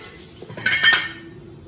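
Mustard seeds are tipped into a cooking pan while making vazhaithandu (banana stem) puttu, giving a brief close rattling clatter that swells and fades within about a second, with no talk.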